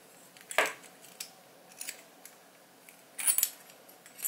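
Sharp metallic clicks and scrapes from a screwdriver tip tightening a bicycle bottom bracket bearing tool, a few close separated ticks and a brief rattle over quiet background, no talk.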